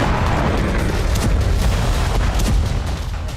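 Heavy bombing of buildings in Gaza City, a dense continuous rumble of blasts and booming, loud and unbroken throughout with no voices.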